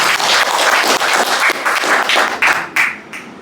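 An audience claps loudly in sustained, dense applause honoring health workers and doctors, filling the hall with many overlapping hand claps that fade slightly toward the end.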